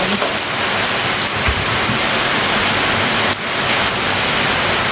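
Large red onion dropped into hot oil in a frying pan while making sardine sambal with bird's eye chilies, a loud, dense, continuous sizzle heard up close with no talking.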